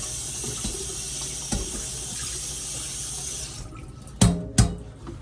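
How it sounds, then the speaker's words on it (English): A strainer is rinsed under a running kitchen tap while making butter from buttermilk. Water hisses steadily into the sink, then stops, followed by two sharp clunks of the strainer against the basin. "I'm gonna rinse this strainer."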